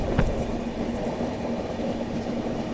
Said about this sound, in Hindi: बगल से ये क्रॉस हुई पुणे हटिया सुपरफास्ट